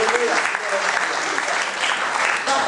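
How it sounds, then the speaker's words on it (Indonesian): A church congregation applauds during an Indonesian worship service, steady dense clapping filling the whole stretch with a faint voice mixed in underneath. "Mari kita berikan dulu tepuk tangan bagi Dia."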